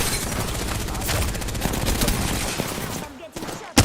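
Rapid, dense video game gunfire rattles loudly and almost without pause for most of the stretch, then briefly drops away before a final sharp burst.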